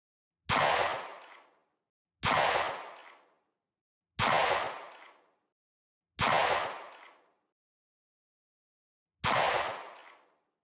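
A Staccato HD C3.6 pistol fires five sharp, loud shots, each with a short decaying echo, spaced about two seconds apart with a longer gap before the last, then silence.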